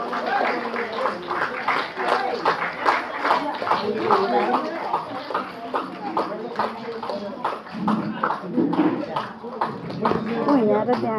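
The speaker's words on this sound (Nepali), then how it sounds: "कृपया सबैले ताली बजाएर हाम्रो कार्यक्रमको शोभा बढाइदिनु हुन हार्दिक अनुरोध गर्दछु।" Audience at a women's committee programme inauguration for International Women's Day clapping in steady, rapid applause, heard beneath someone speaking over a loudspeaker throughout.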